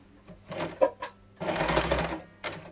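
A sewing machine winding a bobbin on its own, its motor whirring in short bursts as the foot pedal is pressed and released, close and fairly loud with no talk.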